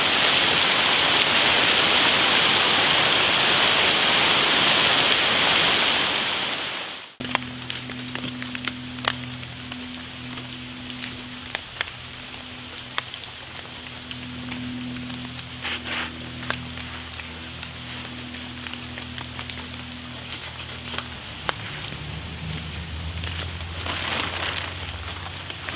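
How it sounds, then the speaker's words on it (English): Rain falling outdoors, a dense loud hiss for several seconds before cutting out. After that, quieter rain with scattered drips and patters continues under a low droning hum. "Well, it's decided to rain on us."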